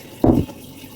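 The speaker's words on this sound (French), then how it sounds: "Alors tout doucement, on met l'eau." Water poured gently through a funnel for a homemade squishy toy, a single short splash of fill lasting a fraction of a second, close and alone.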